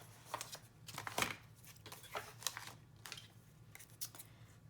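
Scissors fussy-cut paper for a handmade journal, a quiet series of close, short snips and rustles at an uneven pace.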